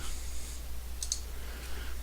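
Computer mouse clicking while working in an Excel spreadsheet: a quick pair of sharp, faint clicks near the middle over a low steady electrical hum, with no voices.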